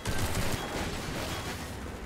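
Enemy gunfire in Half-Life 2, a rapid rattling burst of shots up close, loudest at the start and then a steady roar of combat noise, with no talking.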